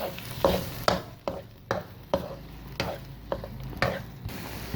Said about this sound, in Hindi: ये हमारा हलवा 5 से 7 मिनट तक हम इसको भून रहे हैं, भूनते रहेंगे